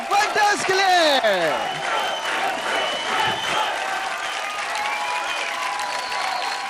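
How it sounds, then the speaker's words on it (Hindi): A studio audience applauds and cheers after a children's team dance performance on a reality show, loud and sustained, with a host's amplified voice and a sweeping musical sting layered over the clapping. "रॉकिंग जोरदार तालियां हो जाए रापचिक पंटर्स के लिए।"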